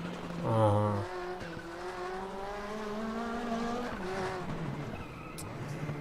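A race car in a WTCC touring-car racing game at Lausitzring loses its rear end, with a sustained engine whine and tire squeal sliding across a few seconds, fairly loud, beginning with a sharp burst.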